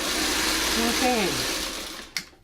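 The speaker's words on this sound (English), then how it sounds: "So the first two pieces get sewn together." A sewing machine runs steadily up close as it stitches two quilt pieces together, then stops, and a brief click follows.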